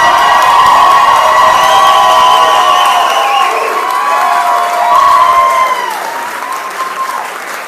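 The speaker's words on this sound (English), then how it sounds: "Please don't give him the loudest applause" Election-night concession speech crowd applauding and cheering loudly, with whoops and shouts over steady clapping that holds throughout.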